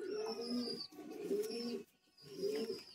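Three throaty, rolling coos from Kolkata high-flying Madrasi pigeons in a loft, each lasting under a second, near and clear, with a short quiet gap before the last.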